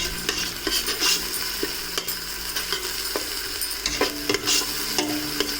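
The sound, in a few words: frying ginger and grated carrots for soup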